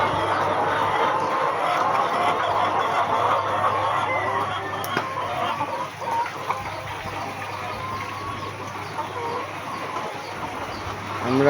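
Chickens on a layer poultry farm in hot weather cluck and murmur steadily as a dense flock, a busy moderate-level chorus with occasional louder calls over continuous background noise.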